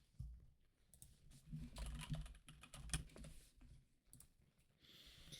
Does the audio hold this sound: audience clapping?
no